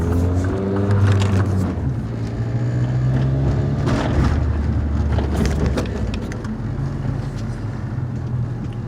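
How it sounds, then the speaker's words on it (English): A Saab 9-3 driving smoothly: a steady, loud engine and road hum holds from start to finish inside the car, with no talking. "Car does drive nice and smooth though."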